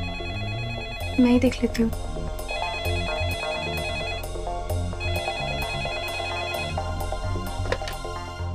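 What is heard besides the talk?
telephone ringing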